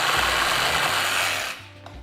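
A Sawzall reciprocating saw fitted with a wood blade buzzes steadily through a piece of wood in a workshop, then stops abruptly near the end, leaving near silence.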